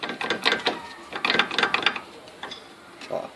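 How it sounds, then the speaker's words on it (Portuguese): A worn stabilizer link in a car suspension rattles and clicks in quick irregular bursts, close up, with short pauses between clusters of knocks. "faz um barulho que parece que está desmontando tudo. O barulho real mesmo é essa peça aqui"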